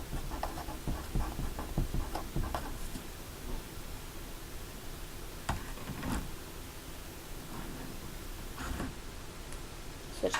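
Pen scratching across paper while writing out math steps, a steady soft scritching with small taps and rustles, faint and close with a background hiss and no talking.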